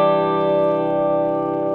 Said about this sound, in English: You can hear a bit of that sparkleness coming now from the bridge pickup.